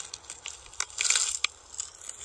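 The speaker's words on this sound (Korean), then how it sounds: "말도 안 되는 깊은 수면을 위한 얼음 깨지는 소리랍니다" Ice cracking on a frozen lake during ice fishing: a sequence of sharp, crisp snaps and crackles in quick succession, fairly quiet and close, with a brief louder cluster in the middle.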